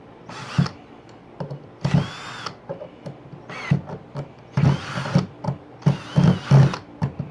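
A power drill driving a screw whirs in a series of short bursts, several pulses of motor spin with brief pauses between, close by and fairly loud.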